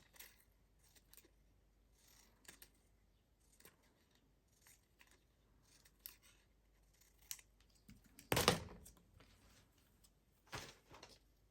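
Scissors trimming a handmade hinged journal card, giving one loud close crisp cut followed by a second snip, with faint paper rustles and handling noises around them in a quiet room.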